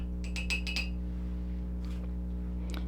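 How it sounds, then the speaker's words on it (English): A paintbrush rinsed in a water jar: a quick run of five bright clinks as the brush taps the glass, followed by faint softer knocks over a steady low hum. "So I'm going to rinse my brush out."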